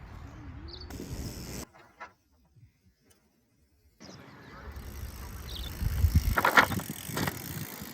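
Mountain bike riding toward a jump, going quiet in the air, then landing with a rush of tyre noise and a few sharp knocks and rattles as the impact is absorbed, close and fairly loud.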